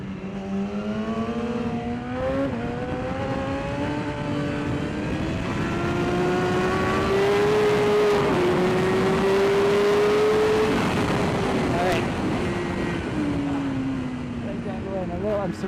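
Racing motorcycle on Bridgestone Battlax V02 slick tyres at speed on track, a loud continuous engine drone rising and falling in pitch through the gears, close and unbroken for the whole stretch.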